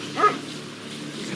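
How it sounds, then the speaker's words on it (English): A police dog barks once, briefly and at moderate distance, in a quiet wooded Alaska setting with faint background noise and no talking. "Dog's barking."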